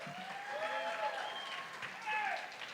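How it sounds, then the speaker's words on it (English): An audience applauds a songwriter at a Tennessee Songwriters Week qualifying round in McMinnville, a steady wash of clapping with cheers and voices mixed in throughout. "So let's give him another round of applause."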